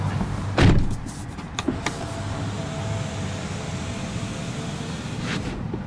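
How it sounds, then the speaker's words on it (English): Doors of a Tesla Model Y Performance shut with a firm, low thump near the start, followed by a couple of lighter latch clicks against a steady low background hum. "So, we'll go ahead and shut the vehicle up."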